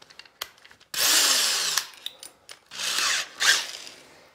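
A power drill bores out a rivet in a steel truck frame, with two long sustained bursts of grinding whine separated by short taps and pauses, loud and close.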